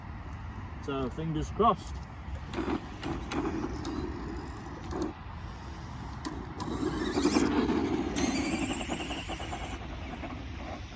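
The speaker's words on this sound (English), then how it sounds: "let's put it down on the ground and give it a bit of a run" A lightweight Tamiya Hornet radio-controlled monster truck conversion, fitted with Monster Beetle wheels, runs on the ground with an uneven whirring electric motor and bursts of rolling noise, while someone talks briefly near the start.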